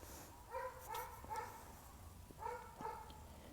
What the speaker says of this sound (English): Damn dog, man. Shut up.